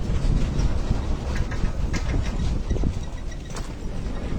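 Rope-way train at Jogindernagar moving slowly uphill, a loud, continuous rumbling roll with low mechanical drone and occasional faint clanks, heard up close with no talk.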